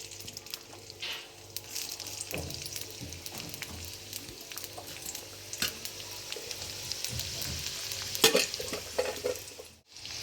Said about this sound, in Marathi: आता फोडणीला कांदा घालते.